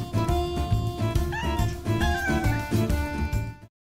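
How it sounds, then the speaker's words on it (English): A cat meows a few times over steady backing music in a children's alphabet song, the cries rising and falling briefly against the rhythmic accompaniment. "C for cat."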